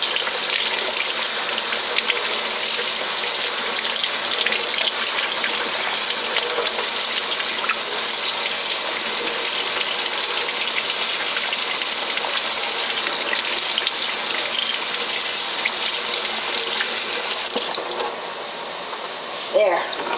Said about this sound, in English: Going to wash this under the water.